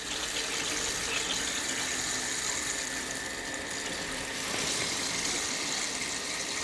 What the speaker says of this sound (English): that now starts running cold water through